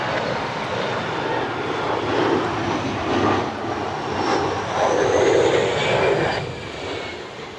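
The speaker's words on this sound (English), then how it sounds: "American Eagle inbound from JFK, E175." An American Eagle E175 jet airliner inbound from JFK roars over Cleveland Hopkins airport, a broad, steady engine rush that swells and eases over several seconds with wind in the background.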